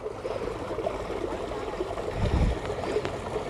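Water flows through a canal outlet with a steady low rushing and trickling wash, moderately faint, swelling a little toward the middle with no voices.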